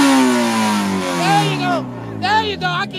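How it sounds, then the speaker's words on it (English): A car engine revs up at an import car meet, a loud mid-range roar sweeping down in pitch close by, with people shouting over it. "I need to hear you real quick"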